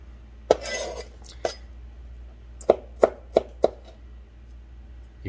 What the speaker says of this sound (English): we're just gonna give them a quick chop. Roughly chop.